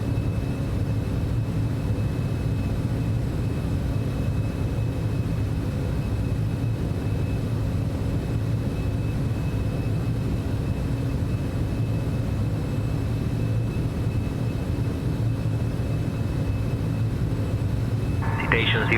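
Steady, loud jet engine drone from a Citation X business jet climbing after takeoff in a flight simulator, a continuous low rumble with a faint high whine holding level throughout.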